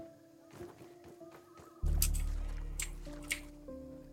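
Slurping, squishy drinking sounds as a character drinks river water in the survival game Grounded, a few soft wet gulps over a low droning game ambience, no talking.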